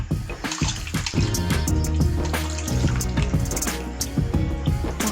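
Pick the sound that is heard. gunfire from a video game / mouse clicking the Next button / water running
water running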